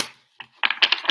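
A deck of oracle cards is shuffled, a short burst of crisp papery riffling and flicking after a brief pause, close and alone.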